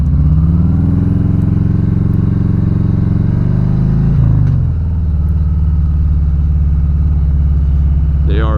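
A 2017 Harley-Davidson Street Glide Special being ridden: a loud, deep, steady engine rumble with a brief pitch shift midway, continuing alone close by.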